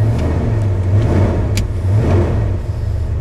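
A car engine idles loudly nearby after a sub-zero cold start, a steady low rumble with a slight uneven pulse and a couple of small clicks.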